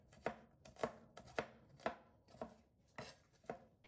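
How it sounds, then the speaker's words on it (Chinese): Garlic is minced with a kitchen knife: roughly eight quick, sharp blade knocks against a cutting board, close up and alone, at a brisk but slightly uneven pace. "剁一剁，这样蒜香味浓郁些。"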